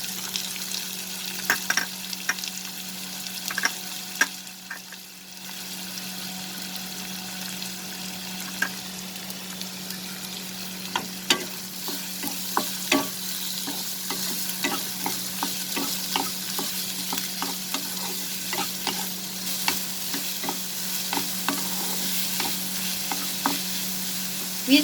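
Chopped onion and green chilies sautéing in a pan over medium flame, a steady close sizzle with frequent scraping stir clicks throughout, no voices.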